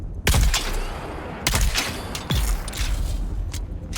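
Gunfire in the video game Dune: Awakening: three loud, sharp shots spaced about a second apart, each with a booming low tail, over a busy rumbling background.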